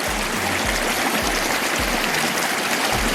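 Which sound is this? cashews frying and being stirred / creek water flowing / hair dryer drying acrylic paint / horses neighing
creek water flowing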